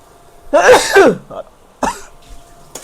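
A loud, close sneeze, set off by spice fumes from tempering, bursts out, followed by a shorter second sneeze or throat-clearing, then quiet.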